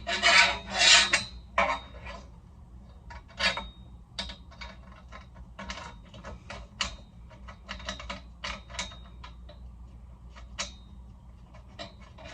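Screws being driven into a Temu desk, a series of short scraping, ratcheting twists in irregular bursts, close and fairly quiet, with louder rasps at the start and softer turns afterward.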